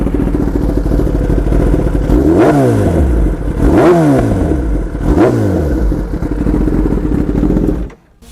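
A loud 2019 Kawasaki ZX-10R sport motorcycle engine idles roughly, then revs sharply three times in a row, each rise and drop close by, before cutting off at the end.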